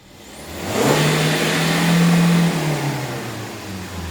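A Hyundai Accent Blue fitted with a dual exhaust revs hard at full throttle. The engine note swells quickly into a loud, sustained, droning roar, holds for about two seconds, then eases off and hums on alone.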